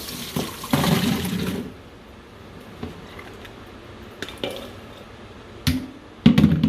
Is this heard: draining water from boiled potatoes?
yes